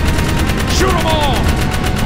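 Steady rapid gunfire rings out while enemies are shot in Jak 3, loud and continuous, with energetic sweeping effect tones over a constant din.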